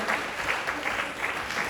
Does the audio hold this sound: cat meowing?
no